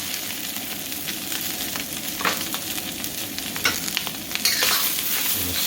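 Onions hit hot oil and fry with a dense, steady sizzle, with occasional scraping stir strokes and a brighter surge of crackle near the end, close and unaccompanied by talk.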